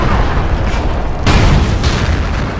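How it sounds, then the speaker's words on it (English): A tank blown up in the video game Battlefield Iraq: one loud, heavy boom lands mid-clip over a constant rumble of battle noise, with a further burst trailing shortly after. "We've blown up one tank"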